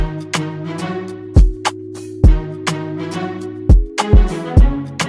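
Short spiccato string notes in an FL Studio cinematic Afro fusion beat, bouncing over sustained chords with punchy low hits, a steady rhythmic pattern heard clearly with no talking.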